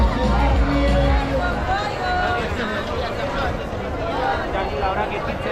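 A moderate crowd fills Gamarra market in Lima with dense, continuous chatter, many overlapping voices near and far mixing into a steady babble.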